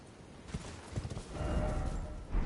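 Horse hooves in the video game Elden Ring, a quick run of soft galloping clip-clop beats over a low, steady game ambience, growing busier toward the end.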